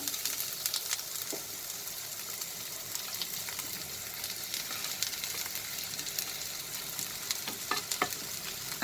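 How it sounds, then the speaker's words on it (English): Sliced onions sizzle and hiss steadily in hot mustard oil in a pan, with occasional stirring clatter over the constant frying noise, close and moderately loud, with no talking. "here I have heated 1 tablespoon of mustard oil, and now I will add the sliced onions"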